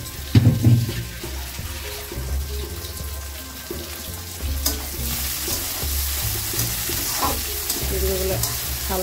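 Shrimp frying with browned onions in a pan, a steady sizzle with occasional stirring knocks and scrapes, a louder clatter at the start, no speech.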